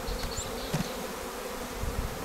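Honey bees buzz at an open hive during a colony check, a steady close drone with individual bees passing by.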